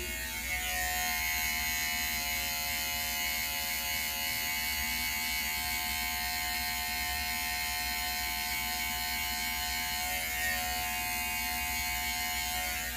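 Electric hair clippers fitted with a 1.5 guard, lever closed, buzz steadily and close up while trimming a beard in a beard fade, a continuous even hum with no talking.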